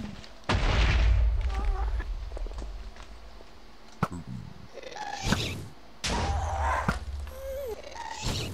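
Several sharp booming blasts in the video game Minecraft burst out at intervals, loud and close, with short rumbling tails and a few quieter noises between them.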